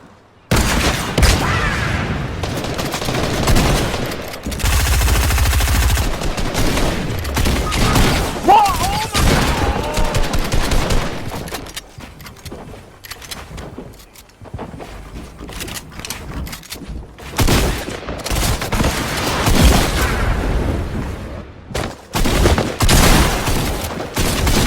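Rapid bursts of gunfire in a shooter video game, including sniper shots, crackle loudly and near-continuously with brief lulls, while players talk over the action and game music plays in the background.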